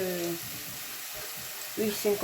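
Oxtail with chopped onion and bell pepper sizzles in a pot, a steady close frying hiss running throughout, with a voice speaking briefly at the start and again near the end.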